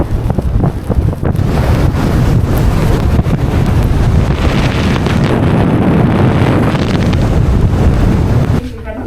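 Strong wind on South Georgia Island, with a little snow, buffets the microphone in a loud, continuous roar with gusty surges throughout.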